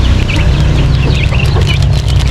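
A mother hen clucks close by among her chicks in a poultry brooding pen, with high chick peeps scattered over a steady low hum.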